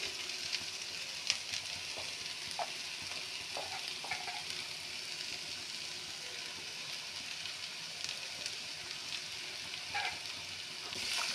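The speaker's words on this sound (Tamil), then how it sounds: "இடித்து வைத்துள்ள தேங்காயை தட்டி வதக்கவும்" Crushed coconut sautéing with red amaranth greens in a hot pan gives a steady soft sizzle, with occasional light scrapes and taps of a stirring spoon, close and even throughout, no voices.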